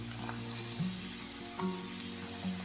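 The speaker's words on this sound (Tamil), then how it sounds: "இப்போ எல்லா வெஜிடபிள்ஸையும் சேர்த்துடலாம்" Vegetables for restaurant-style fried rice (beans, carrot, cabbage and capsicum) go into a hot pan, giving a steady, close sizzle and frying hiss with a few soft stirring knocks and no talking.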